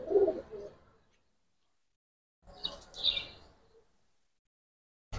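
Silver and Beji Giribaz pigeons coo in two short bursts, a low throaty call at the start and a brighter, busier burst midway, with silence between; fairly close and moderately loud.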